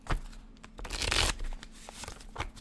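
Tarot cards being shuffled by hand, a run of papery riffling and flutter bursts with one louder burst in the middle, close and alone without talk.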